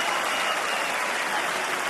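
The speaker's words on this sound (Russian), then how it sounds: "Публика хлопает, конечно," A heavyweight boxing crowd at the Valuev vs Ruiz II bout of 2008 applauds in a dense, steady wash of clapping that stays loud and even throughout.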